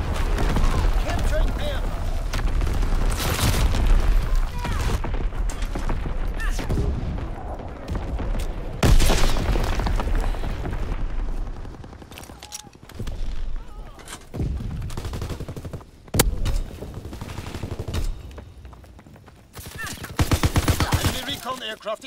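Artillery barrage and gunfire in the World War II shooter Call of Duty: WWII, with a dense stretch of booming blasts and rattling shots, heavy bursts returning near the end, and game voices speaking over the battle.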